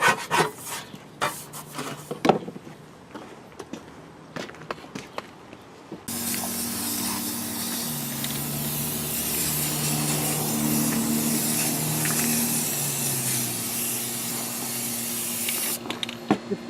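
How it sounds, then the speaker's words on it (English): A steady, loud aerosol hiss of rust reformer spray paint sprays continuously for about ten seconds onto a rusty Ford F250 running board, preceded by scattered handling clicks and knocks. "So I'm going to spray it with rust reformer."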